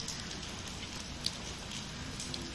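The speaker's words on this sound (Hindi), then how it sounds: "बारिश हो रही है" Rain falls outdoors as a steady, close hiss and patter, with a few sharper drips standing out against the continuous wash.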